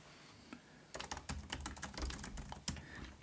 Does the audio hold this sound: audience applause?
no